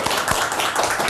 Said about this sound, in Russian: вы не заслуживаете таких слабых аплодисментов, Светлана